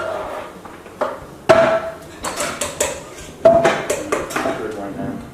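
A spoon stirs tomatoes in a pot for vegan marinara sauce, giving irregular knocks and clanks against the pot with a couple of brighter metallic rings, close and fairly loud, with no talking.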